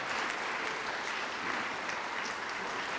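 Audience at the Archaeological Achievement Awards 2024 clapping as a presenter from National Highways comes to the stage. The applause is a dense, even wash of many hands, steady throughout and heard somewhat from a distance.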